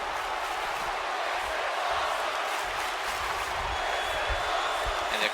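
Wrestling crowd at a UPW women's match, cheering and applauding after a torpedo DDT, a steady broadband roar of applause and voices sustained throughout without clear peaks.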